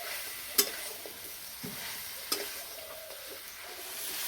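Chicken being stir-fried with ground spice paste in a pan, a quiet continuous sizzle broken by a few sharp scrapes and clinks of a spatula, with no talking.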